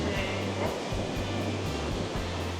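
Loud, constant roar of river water rushing through a gorge in Slovenia, a dense close wash of noise with no talking.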